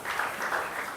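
Church congregation applauding together to acclaim the Lord after a sermon passage, a steady, dense patter of many hands clapping at moderate volume through the whole second.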